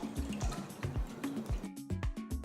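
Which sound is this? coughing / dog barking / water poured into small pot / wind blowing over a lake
water poured into small pot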